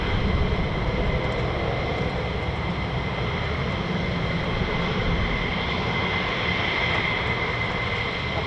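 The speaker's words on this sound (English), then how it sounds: "Because the F-35s have a different voice." An F-35 fighter jet passes overhead at a US Air Force base with the 48th Fighter Wing, giving off a loud, steady, broad engine roar that holds evenly throughout with no talking.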